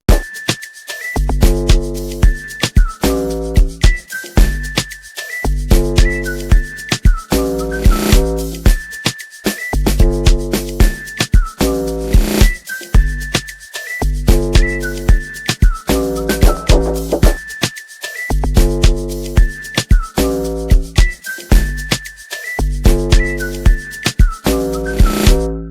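A whistled tune plays in short repeated phrases over a punchy rhythmic backing, loud and up front, with brief gaps between phrases.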